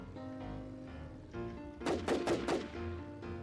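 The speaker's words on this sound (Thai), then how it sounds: "ที่มันยิงอะไรวะ" Gunfire in the zombie survival game NewZ comes as a quick burst of three or four loud shots over steady game background sound, with a final muted shot after a brief pause.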